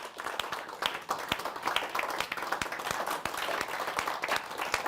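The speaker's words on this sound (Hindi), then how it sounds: "आइए एक बार तालियों से स्वागत करते हैं" Audience clapping to welcome poet Manveer Madhur at a poetry gathering, fairly quiet, scattered individual claps over a steady wash of applause.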